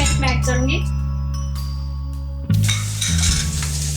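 Chopped ginger and garlic go into hot oil with cumin seeds in a pan for dal makhani, setting off a sudden loud sizzle that continues steadily, close up, along with the clink of a stirring utensil.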